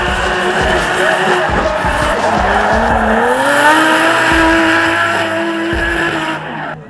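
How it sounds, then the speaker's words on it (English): A V-Energy R34 Skyline drift car in a D1NZ drift round, its engine roaring loud and sustained with tire squeal and skidding throughout before the sound drops off at the end. "Cole Armstrong taking evasive action with limited visibility and putting the V-Energy R34 Skyline into the wall."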